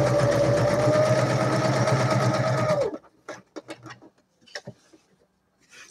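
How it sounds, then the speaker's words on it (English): Sewing machine stitching around the edges of fabric pieces for a paper and lace journal, a close, loud, even mechanical whir for about three seconds before stopping, followed by faint handling clicks and rustles. "I'm going to stitch around the edges of them."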